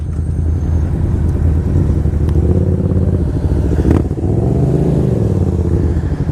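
A Kawasaki Ninja 250 motorcycle engine drones loudly and close while riding at speed, a steady buzzing roar with a brief dip and rise in pitch partway through.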